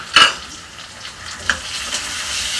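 Onion and finely chopped tomato fry in a pan, with a steady sizzle throughout and a couple of sharp scraping stirs near the start and in the middle. No one speaks.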